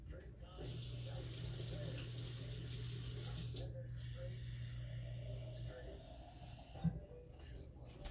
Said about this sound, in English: I'm going to get some water in this jar